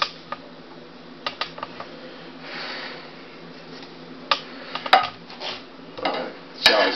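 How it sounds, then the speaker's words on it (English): A utensil scrapes and clicks against a dish while nacho cheese is stirred into chips, giving sparse, irregular clinks and soft scraping bursts in a quiet kitchen. "Kind of stir it up."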